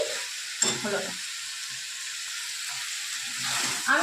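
Chicken pieces being sautéed and stirred in a pan for chicken chatpata, giving a steady close sizzle with a few scraping stir strokes and a brief voice near the end.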